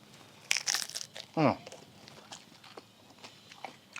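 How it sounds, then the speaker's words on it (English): A single sharp crunch as a cinnamon-sugar tortilla chip is bitten, followed by quieter crinkling and chewing sounds, close up with no talking. "The tortilla is nice and crunchy."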